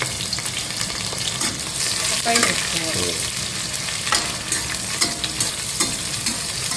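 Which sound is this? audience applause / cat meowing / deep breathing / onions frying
onions frying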